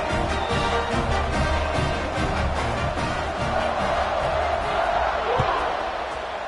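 A football stadium crowd at a Northwestern at Syracuse game roars steadily just before kickoff, a dense, sustained wash of cheering throughout, with a brief sharp knock near the end.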